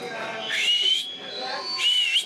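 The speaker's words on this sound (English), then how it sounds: "I learned how to whistle." Actor on a film set whistling two short rising-and-level tones with a brief pause between, close and clear over a faint hiss.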